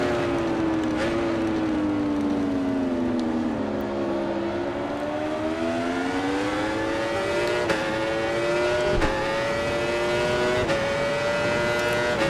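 Superbike engine in the RIDE 4 racing game, a steady high-revving whine that sweeps down and back up through gear changes with brief shift blips, loud and continuous with no one talking.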